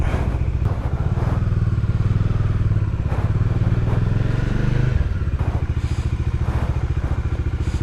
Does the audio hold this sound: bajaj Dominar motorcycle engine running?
yes